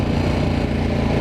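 Steady, close engine note from a KTM 1190 motorcycle, a loud, rough mid-range drone that holds without clear pitch swings, with no voices over it.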